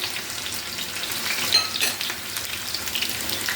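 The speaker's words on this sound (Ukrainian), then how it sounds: "бурячок вже тут, вже закипаємо" Ukrainian borscht with beetroot coming to a boil in a home kitchen pot, giving off a steady, close, sizzling hiss with soft bubbling that swells slightly midway and continues alone without any voices.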